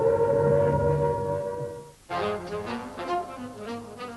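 A wartime air raid warning siren holds a sustained wailing tone, drops away briefly about halfway, then returns with a rougher, wavering sound.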